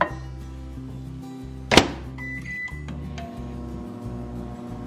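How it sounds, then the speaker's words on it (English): A microwave oven heating a vinaigrette of olive oil and brown sugar hums steadily, broken by a single sharp clunk and a short electronic beep, then keeps droning. "I heated this in the microwave for about 1 minute"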